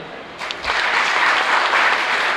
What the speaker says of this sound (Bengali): করতালি দেন